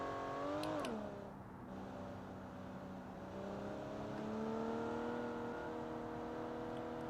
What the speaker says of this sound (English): this inline 6 sounds pretty nice